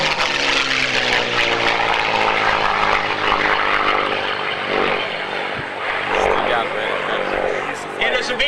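A Rolls-Royce V12 propeller warplane engine roars steadily as the plane passes overhead at an airshow, a deep droning rumble that swells and shifts slightly, with faint talk underneath.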